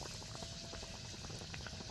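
Malpua, a rice-flour pancake, frying in hot oil: a steady, dense sizzle and bubbling close by, with no talking.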